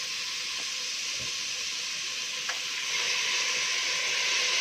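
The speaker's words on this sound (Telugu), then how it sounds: "సో ఇలా కలుపుకున్న తర్వాత కొంచెం ఫ్రై అయ్యాయి" Foxtail millet and moong dal fry in a pan with a steady soft sizzle and hiss, a few faint clicks of stirring, low and close with no voices.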